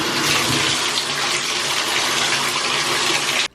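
Water rushes steadily while rinsing out a bathroom, a loud, continuous gushing and splashing that lasts almost the whole time and cuts off abruptly at the very end.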